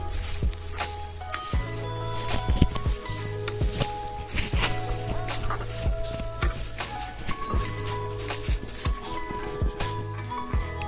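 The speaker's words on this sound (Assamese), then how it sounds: "এতিয়া মই লৰাই আছো নাৰিকলৰ গুড়িখিনি।" Repeated scraping and knocking of a spatula stirring dry grated coconut roasting in a pan, with a faint sizzle underneath, close and rhythmic.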